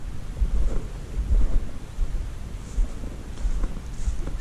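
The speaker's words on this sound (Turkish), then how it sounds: "Sesi bayağı geliyor şelalenin sesi." A waterfall below a pond beside a stream, heard as a steady broadband rushing roar with low rumble, continuous and fairly loud throughout, with no talking.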